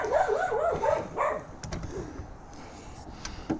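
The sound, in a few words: dogs barking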